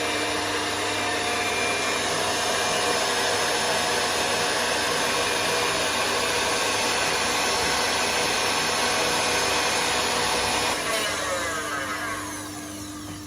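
An electric mixer whisks egg whites, giving a loud steady whirring drone that runs unbroken for most of the time before easing off slightly near the end.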